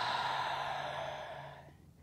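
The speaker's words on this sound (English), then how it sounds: "Let's take a cleansing breath. Inhale through your nose all the way down to baby. Big exhale to let go." A deep cleansing breath during a restorative prenatal yoga session, one long, steady, close exhale of air that slowly fades out over about two seconds.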